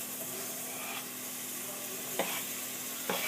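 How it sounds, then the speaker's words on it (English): Tomatoes and mushrooms stirred into softened onions fry with a steady close sizzle, broken by two brief louder scraping stirs near the end. "I'm going to just go ahead and add in the tomatoes and the mushrooms. After the onions have kind of softened a little bit"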